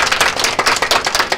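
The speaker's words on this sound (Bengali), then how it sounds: "সবাই জোরে একটা অমিতাভর জন্য, দ্য আর্ট স্কুলের জন্য জোরে হাততালি হয় একদম" An audience at an art school's Saraswati Puja event in Belgharia claps loudly and steadily, a dense ongoing round of applause from many hands nearby, with no break and a little background voice.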